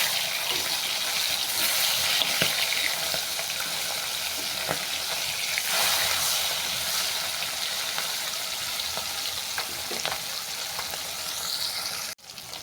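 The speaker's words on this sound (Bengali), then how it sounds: "মাছ চার পিস বাদামি করে ভেজে নেওয়ার পর অপর দিকে দিলাম।" Catla fish pieces fry in hot oil with a continuous loud sizzle, browning after being turned over. There is a short break in the hiss near the end.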